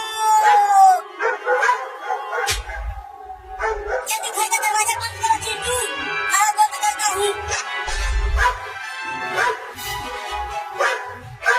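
Dogs bark and howl in repeated short bursts, close and loud, mixed with excited voices talking over them.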